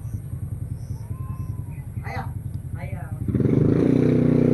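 A motorcycle engine on a rural road sputters in a steady rhythmic chug at first, then grows louder and rougher as it approaches, with people speaking briefly in the middle.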